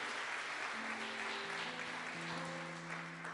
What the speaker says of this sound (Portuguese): Dê a Ele um forte aplauso, em nome de Jesus